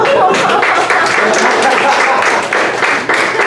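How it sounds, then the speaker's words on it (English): A loud burst of audience applause at a comedy roast, dense clapping filling the whole moment with crowd noise. "let's give a round of applause for Michael Jackson."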